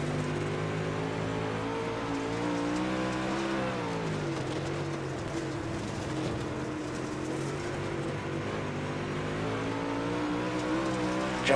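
Dirt track race cars, including a Longhorn chassis number 5 chasing the 95, roaring continuously at high revs, engine pitch rising and falling through corners, loud and sustained with no talking.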